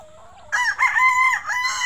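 A young rooster stag crows once, loud and close, a strong harmonic call after a brief quieter lead-in, with low farmyard rumble underneath.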